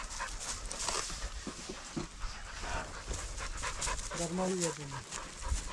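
Dogs pant close by, quick and breathy, with a brief whine, during hay cutting in Siberia, while people talk over them.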